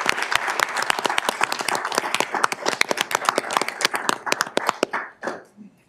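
An audience at a county board of commissioners meeting claps for absent employees, a dense burst of close hand claps that thins into scattered claps and stops after about five seconds.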